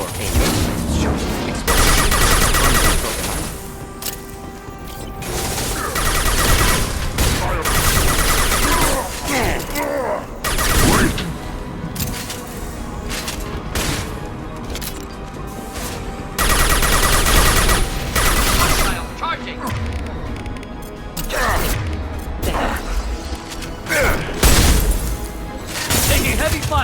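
Sustained heavy gunfire rattles through a firefight in the Mass Effect 2 video game, loud dense bursts of automatic shots and impacts running almost without pause, with voices shouting over the combat.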